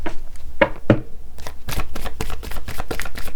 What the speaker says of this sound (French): On va sortir 3 cartes